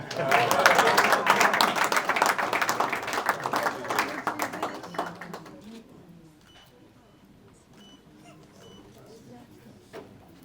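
A graduation ceremony crowd applauds again with lively clapping that is strongest at the start and thins out over about five seconds, leaving a quiet room with faint scattered sounds.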